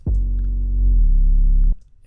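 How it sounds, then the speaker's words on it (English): Smoke 808 bass note from a dark ambient trap beat made in Ableton Live, one deep sustained boom of under two seconds that slides slightly in pitch before cutting off, heard alone. "I also changed the 808 from the Angel 808 to the Smoke 808."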